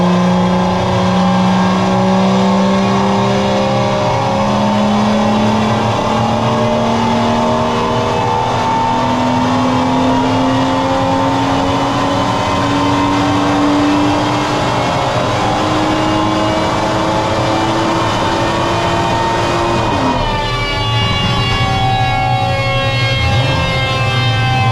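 BMW M140i fitted with a full Scorpion exhaust revs hard on a dyno, engine pitch climbing steadily through the gears in long loud pulls, briefly dropping and surging again near the end, with no talking.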